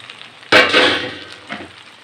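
Previously fried potatoes tipped into a pan of capsicum sabzi, setting off a sudden loud sizzle that surges, then tapers into a steady hiss with a second smaller flare a moment later.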